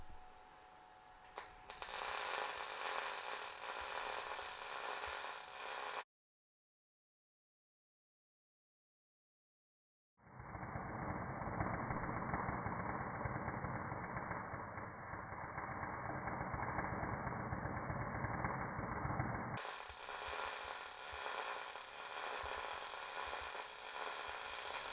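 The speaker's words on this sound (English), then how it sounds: "Let's do a fillet weld on a narrower profile." A Harbor Freight Titanium Unlimited 200 welder lays a fillet weld on 3/16-inch steel, giving a steady crackling, sizzling arc that runs continuously for about ten seconds after a brief dropout.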